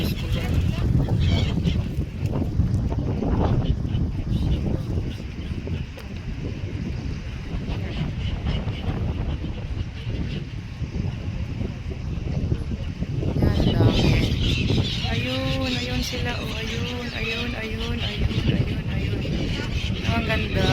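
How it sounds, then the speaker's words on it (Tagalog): Strong wind gusts buffet the microphone beside a lake, a constant low roar that swells and eases, with a voice talking over it partway through. "mahangin nga lang guys"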